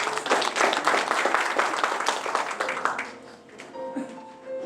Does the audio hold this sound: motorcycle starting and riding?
no